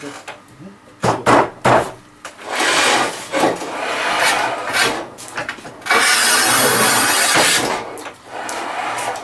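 Manual tile cutter scoring and snapping ceramic tile, with repeated short rasping strokes followed by longer grinding scrapes, close and loud, while people talk in between.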